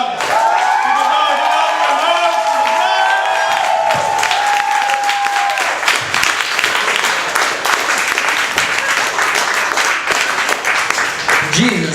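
A crowd at a comedy night in JP's Hookah Lounge claps and cheers loudly for comedian Travis from Longville, with whoops in the mix. A voice carries over the first half, and the applause keeps going to the end.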